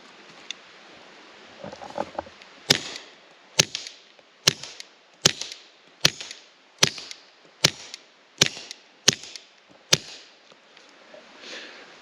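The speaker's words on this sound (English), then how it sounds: "We're going to run it through the suppressed 22 caliber pistol, see how quiet we can be." Suppressed .22 caliber pistol fired into a dirt berm on a mountain hillside, about ten sharp, muted shots at a steady pace of roughly one every second, fairly close, with quiet outdoor ambience and no talk.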